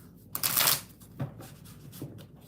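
A deck of oracle cards is riffled in one loud, close burst, followed by two softer shuffling flicks a moment apart.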